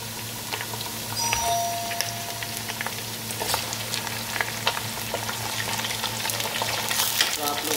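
Chicken frying with browned onions in a pan, a continuous crackling sizzle with scattered spatula scrapes and a faint steady hum underneath, no speech.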